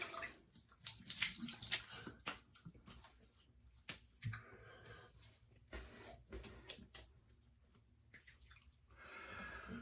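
Warm water running from a tap for a face wash after a close shave, a fluctuating splashing flow with drips and hand movements in the water, close and fairly quiet, no talking.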